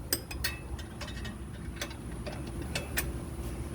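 A wrench ratchets on a skid plate bolt under a Massey Ferguson GC compact tractor: quiet, sparse metallic clicks and ticks scattered over a low steady background hum, with no talk.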